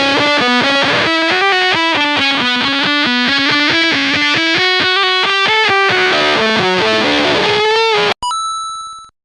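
Electric guitar through a Zvex Fuzz Factory fuzz pedal plays a fast, loud, heavily fuzzed riff of rapid repeated notes, ending with a sudden cut and a bright ringing, bell-like tone that decays.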